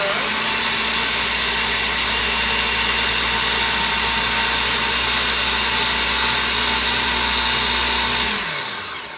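A food processor whirs steadily while blending a sauce, a loud constant motor drone that holds evenly for several seconds before abruptly winding down and stopping.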